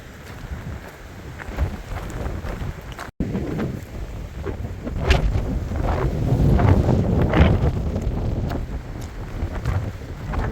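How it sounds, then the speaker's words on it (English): Heavy wind funneling through a wash on the Continental Divide Trail roars and buffets the microphone continuously, swelling louder in the second half, with a brief dropout near the start. "It may be super windy,"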